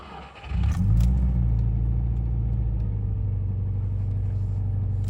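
A Subaru car engine with a leaking exhaust manifold gasket runs loudly after starting, a steady low rumble with a rough, ticking exhaust edge.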